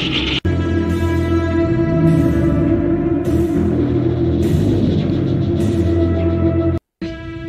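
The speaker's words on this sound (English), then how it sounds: "It's the sound of a rattlesnake." An eerie electronic tower sound from Westworld, likened to a rattlesnake's rattle, holds a steady droning hum. Short hissing rattle bursts repeat about every second over it, and the sound briefly cuts out near the end.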